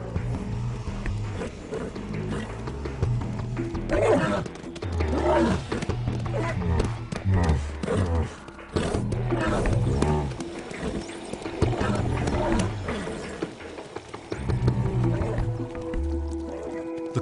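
A herd of alien creatures called unts gives off overlapping low roars, grunts and wet, snorting calls, a busy chorus that runs without a break and sounds close.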